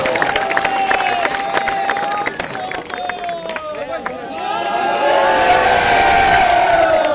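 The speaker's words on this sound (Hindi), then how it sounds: "सो तालियां भेजिए" Crowd cheering and whooping at a club award ceremony, rising to a loud, dense roar near the end, with voices calling out over the noise.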